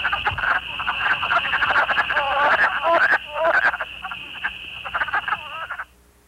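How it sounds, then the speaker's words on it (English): A wood frog in Missouri calls repeatedly in quick raspy clucks, several croaks tumbling over one another, over a steady faint tone, then fading out at the end. "We'll pause now to hear the call of a wood frog, a rare sound in our state."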